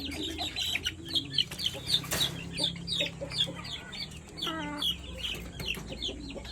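Native chicken chicks cluck and peep close by in a grower pen, with busy overlapping calls and rooster-like crows throughout, over a low background hum.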